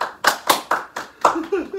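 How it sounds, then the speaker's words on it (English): A handful of podcast guests clap in a slow, sparse round of applause, about seven distinct claps close to the mic, with a voice murmuring briefly near the end. "Everybody, round of applause."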